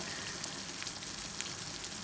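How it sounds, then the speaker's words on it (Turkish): Kaşar cheese melts and sizzles over potatoes in a pan on low heat, a soft steady crackle and hiss with faint pops, quiet and close. "şimdi peynirler kısık ateşte bir erir bir salar"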